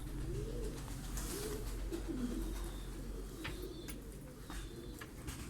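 Mardin breed pigeons coo in a large rental loft, with low rolling calls repeating from several birds at moderate distance over a steady background hum, with no voices.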